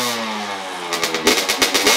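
A dirt bike engine revving indoors inside a room: a steady idle drone that breaks into a quick run of loud, close throttle blips and revs with a rattling edge.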